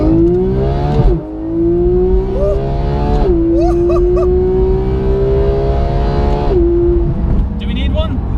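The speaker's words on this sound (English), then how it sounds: "Are you going to put an exhaust on this car, the GT3?" Porsche GT3 without an aftermarket exhaust accelerating hard on a straight road, its loud rising engine note climbing through gears with brief dips at the shifts, heard from inside the car.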